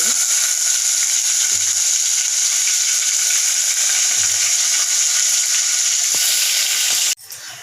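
Onions frying with dried red chillies, green chillies and cumin in a pan, a loud, steady close sizzle that holds throughout with faint stirring scrapes, then drops off abruptly near the end.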